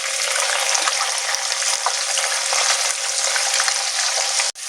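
Onion, garlic, ginger and green chili paste hisses loudly and continuously in hot oil for a Bengali coconut chicken curry, a dense close-up sizzle that cuts off abruptly at the end.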